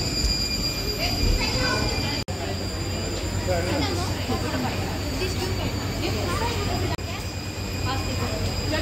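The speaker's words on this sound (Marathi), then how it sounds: "आता मी रेल्वे स्टेशनला आलो आहे" A busy Mumbai railway platform in heavy rain, with a rumbling train and a constant wash of crowd chatter, a couple of brief dropouts breaking the noise.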